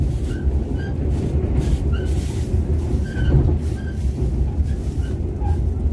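A Mugunghwa RDC diesel railcar pulls into Gyeongju station, its wheels giving off repeated high squeaks and squeals over a low steady rumble of the train rolling slowly to a stop.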